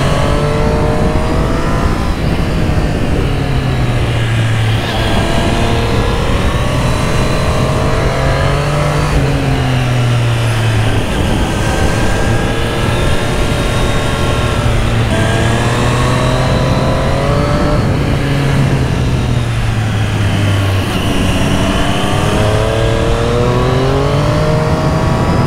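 A Triumph Street Triple 765 RS sport motorcycle engine revs hard and continuously, its pitch climbing and dropping through gear changes as it speeds along.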